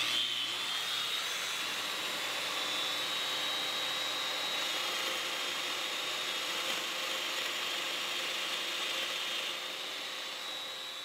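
Festool Domino DF 500 joiner cutting a mortise in wood, heard as a steady high motor whine with a grinding mechanical buzz, close and unbroken for the whole stretch, no talk.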